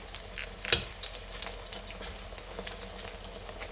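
Leftover tau fish coated in egg and flour batter fries in hot oil, a steady fine crackling sizzle with one sharp pop and scattered small spits throughout.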